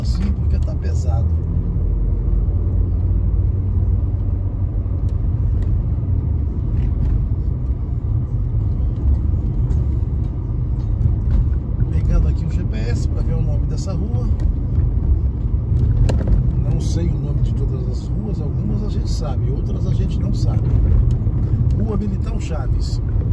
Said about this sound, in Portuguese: se a gente entra aqui na frente desse caminhão, aí vem pesado. Subindo lento assim porque tá pesado